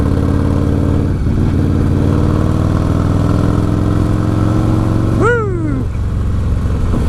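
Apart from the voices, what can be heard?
1996 Harley-Davidson Softail Evo engine rev bombs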